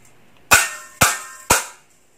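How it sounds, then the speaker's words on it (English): Three separate cymbal crashes about half a second apart, each a bright, loud hit ringing briefly before the next, played alone with no talking. "And the last one I have a cymbals."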